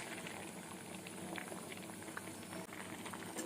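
Quiet, steady bubbling of a simmering curry in a pressure cooker, a continuous soft patter with no talking.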